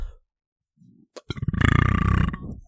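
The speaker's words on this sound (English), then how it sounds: "I'm so sorry for the burp." A single loud, drawn-out burp rumbles close to the microphone for about a second, preceded by a brief faint grunt and a click, then fades.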